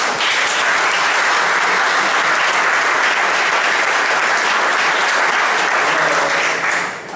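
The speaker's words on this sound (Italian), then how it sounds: "Ai signori colleghi della minoranza noi rivolgiamo un caloroso applauso." Warm applause at a town council meeting in Sanluri, continuous dense clapping held at a steady loud level for about seven seconds, easing off just at the end.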